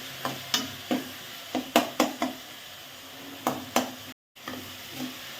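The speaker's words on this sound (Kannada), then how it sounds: "ಫ್ರೈ ಆಗಿದೆ ಟೊಮೊಟೊ ಎಲ್ಲ." Tomatoes frying for South Indian rasam, a soft sizzle in the pan broken by a series of sharp spoon scrapes and knocks as they are stirred, close and fairly quiet, with a brief silent gap.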